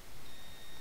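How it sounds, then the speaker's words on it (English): During a repair of a PPI Power Class 1800.2 amplifier, a multimeter continuity check sounds a faint, continuous high-pitched tone that runs unbroken under steady room noise, with no voices present. "And we're looking for a beep."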